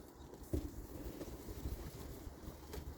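Steady wind buffeting the microphone with low rumbling gusts, a continuous rushing roar with a few brief thumps.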